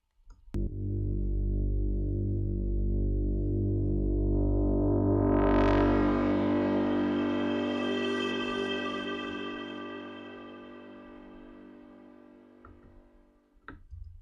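A space brass synth sample from an Atmospheres folder, transposed two semitones down with reverb, swells into a sustained bright brass-like chord with a rising sweep, then slowly fades into a reverberant tail.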